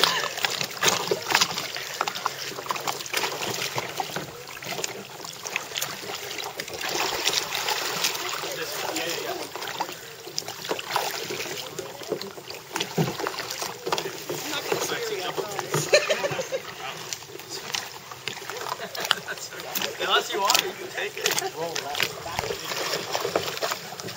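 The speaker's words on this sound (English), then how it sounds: "So what we're gonna do is just continuing paddling around here." Canoe or kayak paddling on the water at First Landing State Park, with steady splashing and dripping strokes running continuously up close while people talk over it.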